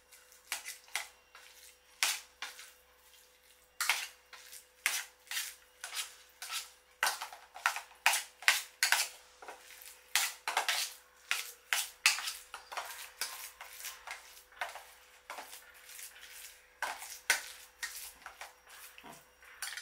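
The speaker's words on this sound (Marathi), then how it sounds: "मुगाची डाळ शिजलेली आहे, थोडीशी मी घोटून घेते ती" Cooked moong dal being mashed in a metal pot, a long run of quick, irregular clacking and scraping strokes, close and fairly loud, with no talk.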